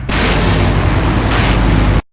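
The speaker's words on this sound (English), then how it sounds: "Now that's an explosion, ladies and gentlemen" A big explosion from the Full Throttle video game machinima roars loudly and continuously for about two seconds, a thick, booming blast that cuts off abruptly into silence.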